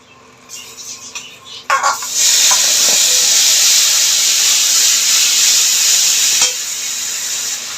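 Onion paste with ginger paste and cumin powder drops into hot oil for a dal tempering. After a few soft clinks comes a sudden loud, sustained hissing sizzle that eases slightly near the end.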